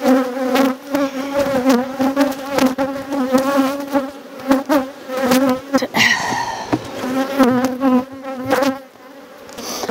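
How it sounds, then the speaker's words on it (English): Bees buzz continuously around a person, the droning swelling and fading as individual insects dive close and veer away, loud and near throughout. "you can see there's bees still dive bombing me"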